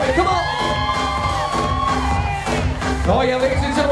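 A party crowd at a sweet sixteen celebration cheers, whoops and yells loudly and continuously, filling the room with overlapping shouts and hollering.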